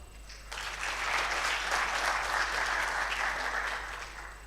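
A room full of attendees breaks into applause at the close of an oil and gas geopolitics event, the clapping swelling quickly after a brief pause, holding steady and tapering off near the end.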